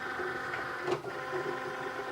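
A Cricut cutting machine runs steadily while cutting a vinyl design for mugs, giving a continuous mechanical whir with steady motor tones and one brief louder movement near the middle.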